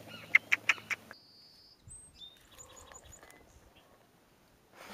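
Pet chickens cheep and chirp in short, high calls at close range. A few louder clucks come first, then quieter scattered peeps over a soft background hiss.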